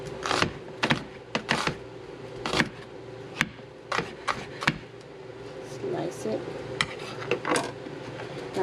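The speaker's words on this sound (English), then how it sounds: "1/2 of the onion and I'm going to slice it" Knife slicing half an onion on a cutting board: a run of crisp, fairly close chops at an uneven pace, with a voice in the background.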